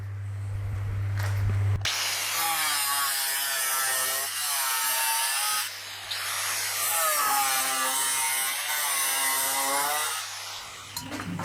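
A zip disc cuts a sheet metal panel for a custom firewall, giving a loud, sustained high-pitched grinding whine in two long passes, with a short pause between them and no talking.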